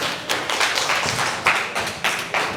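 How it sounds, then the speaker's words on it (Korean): An audience at a Busan science lecture on non-destructive testing applauds briefly, with scattered, uneven claps that bunch into a few short bursts over a couple of seconds in a hall. "박수 부탁드립니다"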